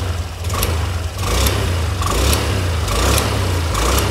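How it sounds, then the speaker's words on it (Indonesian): Stock, unmodified Honda-type scooter engine being blipped on the throttle, a close mid-pitched motor rising and falling in several short repeated revs with no talk. "Sebelumnya kita tes dulu ya respon gasnya kayak apa. Ini masih full standar ya motornya."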